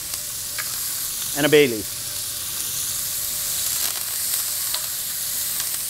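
Onion, celery, garlic, thyme and bay leaf sizzle steadily in a hot pot, a continuous bright frying hiss that runs throughout, with someone briefly speaking over it near the start.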